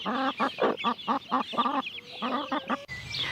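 Backyard chickens, young chicks growing among broody hens and older birds, cluck in a quick run of close, repeated calls with a higher peep near the end.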